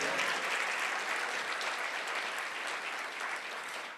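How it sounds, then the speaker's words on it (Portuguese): A church congregation applauds loudly and steadily, a dense wash of clapping that holds for about four seconds with no talk over it. "dá forte aplauso e dá glória a Deus aí também"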